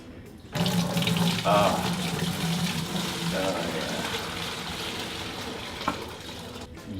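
Liquid being poured out during home brewing, a steady close splashing rush like running water that starts abruptly and continues for several seconds, with a brief voice and occasional clinks over it.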